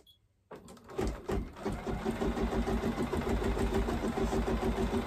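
An embroidery machine stitches an in-the-hoop zombie face mask, running back stitches in a steady, fast mechanical rhythm that starts abruptly after a brief quiet moment and continues close and loud without talk.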